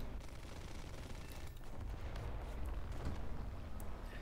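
Gunfire hitting a Hurricane Mk I fighter in the video game War Thunder, rapid bursts of machine-gun fire over a constant engine drone, fairly quiet and steady, with no speech.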